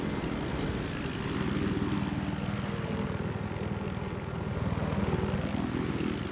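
A helicopter in Battlefield 4 flies with a continuous, even rotor and engine drone that holds steady throughout, with no talk over it.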